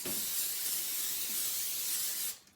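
A continuous spray of cooking oil into a non-stick frying pan, a steady close hiss lasting a couple of seconds before cutting off abruptly.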